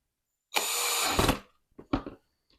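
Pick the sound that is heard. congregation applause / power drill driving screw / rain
power drill driving screw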